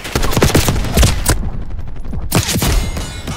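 Loud gunfire from Call of Duty Black Ops 6 multiplayer, with rapid automatic bursts, a brief lull, then another burst of shots close up.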